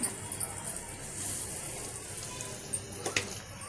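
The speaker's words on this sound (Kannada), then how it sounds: "ನೋಡಿ ಕುದೀತಾ ಇದೆ ನೀರು, ರವೆ ಹಾಕೋಣ." Water at a rolling boil in a pot on a home kitchen stove, ready for semolina upma. A steady, faint bubbling hiss runs throughout with a few sharper pops near the end.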